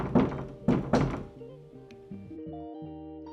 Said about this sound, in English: all I hear is bang, bang, bang, right on the side of my door